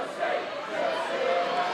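A large crowd at a women's football match between Chelsea and Tottenham Hotspur roars in a broad, sustained swell, loud and continuous across the stands.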